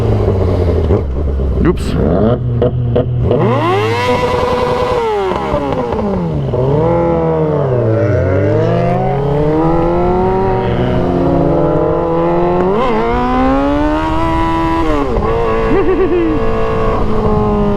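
A Yamaha R7 motorcycle engine revs up and down through a long series of rising and falling pitch sweeps with audible gear shifts, loud and close, with a rider briefly speaking over it.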